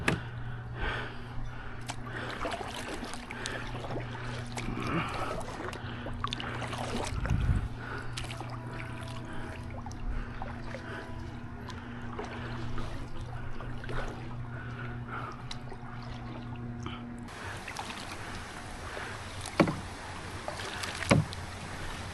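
An Old Town 119 Solo Sportsman canoe is paddled on open water, with soft irregular paddle strokes, drips and splashes close by over a low background rumble, plus a few sharper knocks.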